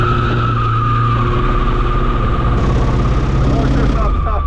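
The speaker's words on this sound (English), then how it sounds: "We're gonna get her to try like a circle drift donut to start out." A Volvo car drifts in a circle doing donuts on an open paved section. The engine roars continuously and tyres scrub and squeal throughout, loud and close, with a voice faintly audible beneath.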